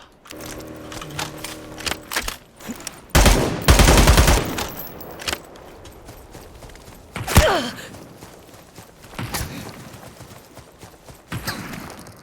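Bursts of video game gunfire crack out in scattered volleys, with loud rapid salvos amid clicks, clatter and other game noises.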